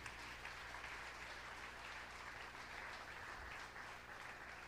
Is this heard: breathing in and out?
no